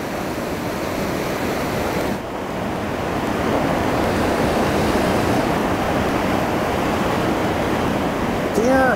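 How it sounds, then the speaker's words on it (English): Great Lakes water rushes past in a loud, continuous roar, close and unbroken, with some wind buffeting the microphone throughout. "This water that flows through here is the life of the Great Lakes, right here happening in front of us."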